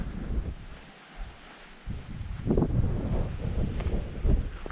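Gusty wind buffeting a campsite in the Northwest Highlands, roaring in uneven surges with a brief lull, rumbling against the microphone, loud and close with no voices.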